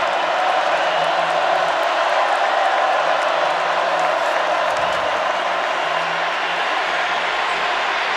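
Stadium crowd at a Wake Forest at Clemson college football game, a broad steady roar of cheering that holds loud and unbroken throughout with no distinct voices standing out.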